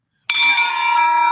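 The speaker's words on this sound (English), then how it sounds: "Let's ring that bell." A celebration bell rung once to mark a real estate wholesaling deal, a sudden bright strike that rings on as a clear, sustained metallic tone, loud and near, with no talk over it.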